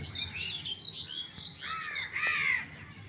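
Crows cawing and assorted small birds chirping outdoors, with overlapping calls and tweets in quick succession, moderately close against faint background noise.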